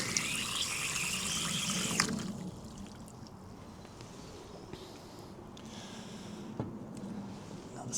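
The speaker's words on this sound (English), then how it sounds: "I'm going to add some more water." Water pours into a warm anodising bath for lens parts in a loud, splashy two-second gush, followed by a quieter low wash.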